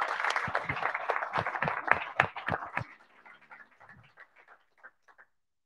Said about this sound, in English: give another round of applause to these